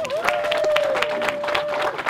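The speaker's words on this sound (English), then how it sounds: "Please give them a round of applause." A wedding crowd on a beach claps steadily, a dense patter of hands, while a voice holds a long sustained tone over it.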